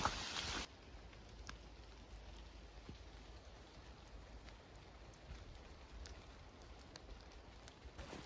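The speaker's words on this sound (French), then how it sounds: "la pluie s'est un peu calmée" Light rain falling in an Ardennes forest, a faint, steady patter of drops with a few sharper drips, quiet and distant with no voices.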